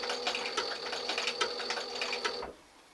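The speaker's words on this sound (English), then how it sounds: "I will sew around the edge of the flower to anchor in all of this" Sewing machine stitching around the edge of a leather inlay flower, a fast steady mechanical whir and tapping for a couple of seconds, close and clear, then stopping abruptly.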